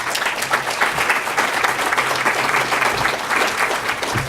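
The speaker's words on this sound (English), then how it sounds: "Nolan Tam and DevCon Construction, both deserve a great round of applause." Loud, sustained applause from a crowd at the dedication and opening of a map center, many hands clapping in a dense, continuous patter with occasional low thumps, no voices over it.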